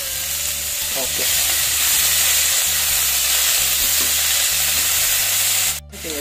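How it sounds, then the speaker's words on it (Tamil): Vallarai keerai greens are sautéed in a pan, giving off a loud, steady sizzle with intermittent stirring scrapes and a brief break near the end. "இத பொரியல் மாதிரி ரெண்டு நிமிஷம் வதக்கணும் போடுவோம்."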